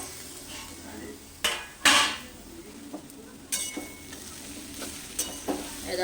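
Cabbage and fish head cooking in a pan are stirred, bringing several sharp scrapes and clatters of the utensil against the pan over a low, steady sizzle, close by with no talking.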